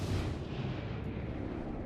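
Rapid, dense gunfire from the video game XCOM: Chimera Squad, a continuous rumbling barrage of shots that holds steady and fairly loud for the whole stretch, with no talk over it.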